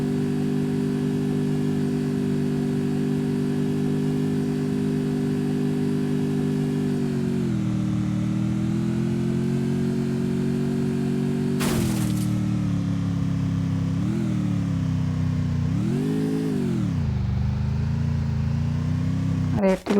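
Motorcycle engine in the Free Fire video game droning steadily at mid pitch, with the pitch dipping and rising as the bike speeds up and slows. A voice speaks over it throughout, and a short sharp burst cuts in near the middle.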